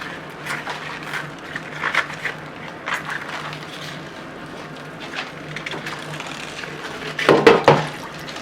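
Liquid yarn dye goes into a second dyeing pan, with faint splashing and trickling that builds to a brief, louder pour near the end; there is no speech.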